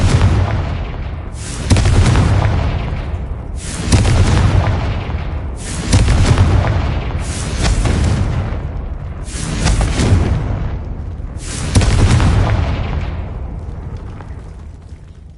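Repeated blasts of the Confringo fire spell in the game Hogwarts Legacy, six or seven loud booming explosions roughly every two seconds, each bursting sharply and then rumbling away, with no talking.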